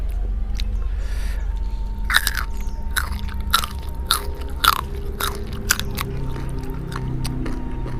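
Raw young papaya shoot stalk bitten and chewed close up, a run of crisp crunching bites and wet fibrous chewing at an uneven pace, with no talking.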